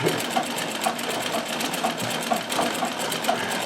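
A Riccar 570 sewing machine driven by a foot treadle stitches stretch fabric, a close, steady mechanical whirr with a regular chattering pulse of needle strokes throughout.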